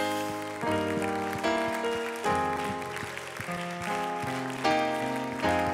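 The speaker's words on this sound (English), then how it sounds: "would someone just clap hands to the Lord for a moment?" A church congregation clapping hands together, a dense steady wash of applause under sustained organ or keyboard chords, with no talking.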